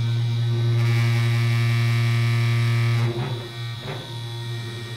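A tattoo pen machine runs with a steady electric buzz and strong tonal hum, loud and close. Partway through the pitch drops and the tone turns rougher, with a couple of brief knocks.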